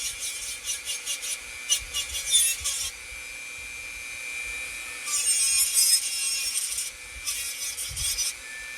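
Sanding on a carved wooden stump, a dry scratchy rubbing that comes in short repeated strokes, pauses, then resumes in longer bursts, close and moderately loud with no talking.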